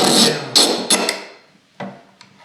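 Clamps being tightened down on a wooden box joint jig in a workshop: a few sharp, close knocks and clatters in quick succession, then two quieter taps after a short pause, with no talking.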